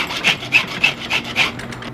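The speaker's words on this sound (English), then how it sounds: "You can tell by the sound of the file whether it's biting or not." A hand file sharpening a chainsaw chain, rasping in five steady, evenly spaced strokes about a third of a second apart, close and fairly loud with no voices.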